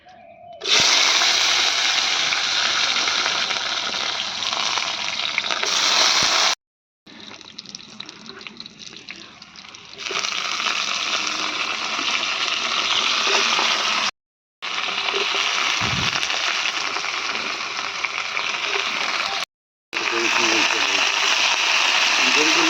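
Hot oil with whole spices and cut flat beans, eggplant and radish sizzles loudly in a karahi for a village vegetable dish, a harsh continuous hiss broken by several abrupt cuts of silence.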